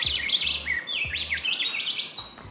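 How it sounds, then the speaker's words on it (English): A forest bird on a remote French Polynesian island sings a series of bright, high whistled phrases with short rising and falling notes, fairly close and clear over a low background hum, with no talking. "So here when I heard a bird singing, that's my new favorite bird."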